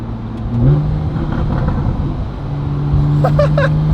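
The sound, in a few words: Porsche flat-six engine revving, stock exhaust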